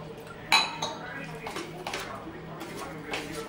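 Mashed tomato and onion stirred with water in a bowl, with a sharp clink at the start followed by repeated soft scraping and clinking of a utensil against the bowl while someone talks.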